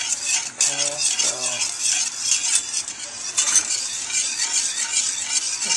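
A spoon stirs milk sauce for macaroni and cheese in a pot, with steady scraping and light clinks against the metal running through the whole stretch at close range. No one speaks.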